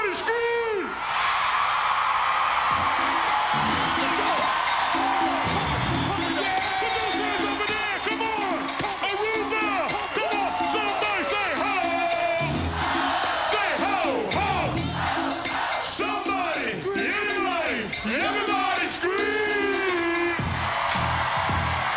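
A live hip-hop concert crowd screams and yells together in a sustained roar that runs loud throughout, mixed with the music and the rapper's voice on stage.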